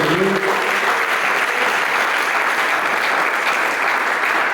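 A church congregation applauds at an evening service, a dense, steady wash of many hands clapping together, loud and sustained throughout with no voices standing out.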